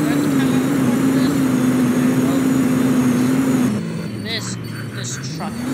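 A truck engine in a trucking video game runs as a steady droning hum, then drops in pitch and loudness partway through while brief clicks and clatters sound over a quieter rumble.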